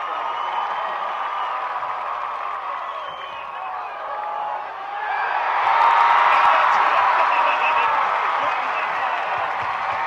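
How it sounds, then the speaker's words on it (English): A crowd at a high school football game claps and cheers at a steady level, swelling louder midway with scattered whoops and mixed voices in the background. "Let's give Joe a big round of applause, everyone."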